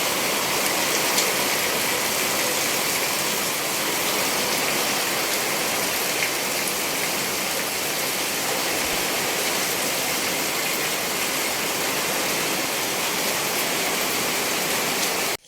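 Steady rain pours down in Kuttanad village, a dense unbroken hiss that holds at an even loudness throughout, with no voices.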